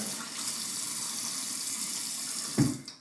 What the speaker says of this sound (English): we're just going to go ahead and get some water going